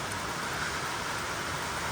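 Steady rain falls during a wet Diwali season, producing a continuous, even hiss of drops with no pauses.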